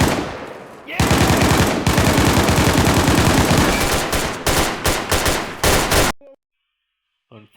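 Rapid automatic gunfire in the survival video game DayZ, a dense burst of repeated shots lasting several seconds, then scattered shots tapering off into near silence with a final brief sound.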